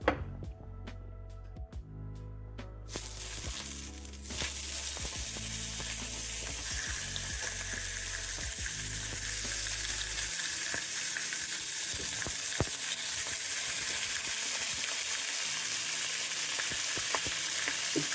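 Loud, steady sizzling and crackling of bacon frying in hot oil, with occasional clinks of a utensil moving it around in the pan.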